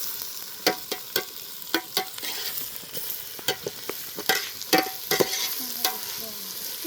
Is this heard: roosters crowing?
no